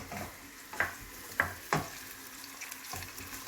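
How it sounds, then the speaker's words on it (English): Prawns frying in a pan for Chinese fried rice, a steady close sizzle with several sharp crackles and spits over the continuous hiss, with no voice. "So we just fry the prawns for a bit"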